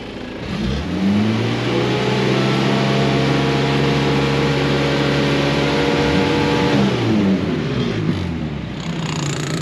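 An old Renault Estafette van engine revs up from idle and holds a strong, loud, steady drone for several seconds. It then drops back toward a lower idle, heard close up without talk.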